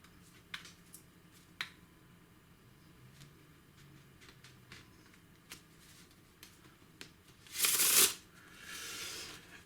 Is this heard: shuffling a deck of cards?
yes